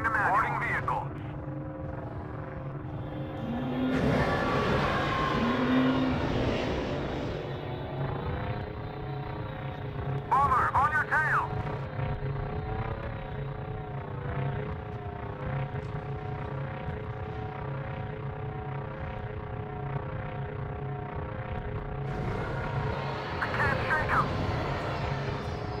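Vehicle engine hum from a Star Wars Battlefront craft, a steady droning whine with tonal layers running throughout, under intermittent radio-style voices and short electronic chirps.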